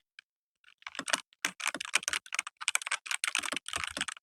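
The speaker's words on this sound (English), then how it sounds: "Now the sound test time. Listen." Quick, crisp keystrokes clatter on an Evofox Ronin mechanical keyboard with red switches in uneven bursts, close and fairly soft, with brief pauses between runs.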